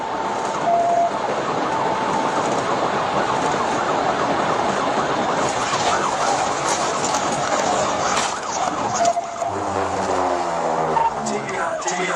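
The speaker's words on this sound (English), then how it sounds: "the sound of the engine almost completely drowns out the siren." Loud roaring engine and road noise from a car in a high-speed police pursuit dominate, with a wailing police siren faintly audible beneath it throughout.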